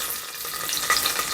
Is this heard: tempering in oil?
yes